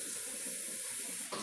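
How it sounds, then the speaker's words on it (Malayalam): A cupful of water poured onto rice flour for banana murukku, a steady close gush filling the whole moment before stopping abruptly. "അതേ കപ്പിന് ഞാനൊരു 2 കപ്പ് വെള്ളം ഒഴിക്കാൻ പോവാണ്."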